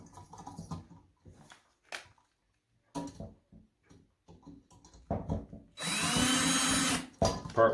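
A drill tightens screws during a ceiling fan installation, heard as one loud burst of about a second and a half near the end, after quiet handling noises and small clicks.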